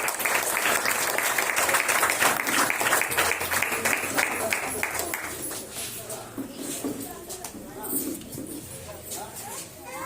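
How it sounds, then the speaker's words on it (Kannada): A congregation at a New Year worship service claps to welcome a speaker, a loud continuous wash of applause that gradually thins and softens over ten seconds, with some voices mixed in. "ಎಲ್ಲರೂ ಚಪ್ಪಾಳೆ ಮುಖಾಂತರ ಅವರನ್ನು ಸ್ವಾಗತಿಸೋಣ."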